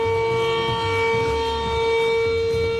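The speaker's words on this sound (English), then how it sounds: "This is some sort of Century siren." A Century outdoor warning siren wails steadily and loudly on a windy day, its strong sustained tones holding over a low rumble of wind, with no voices.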